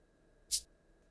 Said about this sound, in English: it is a Cabasa sound that sounds like this